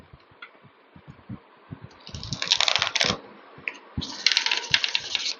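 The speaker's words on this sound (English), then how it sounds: "I'll just give it one last shuffle." A tarot card deck is shuffled close up, with soft taps and shifts giving way to two dense, crisp riffling bursts of cards flicking against each other.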